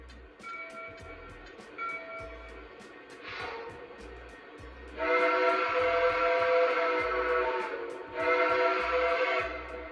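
Video game Pacemaker Mohawk steam locomotive whistles blow in a few sustained, harmonic blasts, the later ones louder and fuller over a steady low rumble, with no talking.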